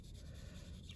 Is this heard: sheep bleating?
no